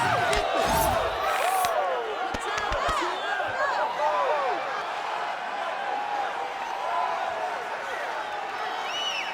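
Arena crowd in the EA UFC 5 video game, a dense, loud roar of cheering and whoops with sharp claps and thuds early on, continuing steadily throughout.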